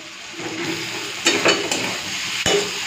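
Taro stolons stir-fried with green chili and white mustard paste in a pan, a steady close sizzle broken by a few sharp scraping stirs of the spatula, with no one speaking.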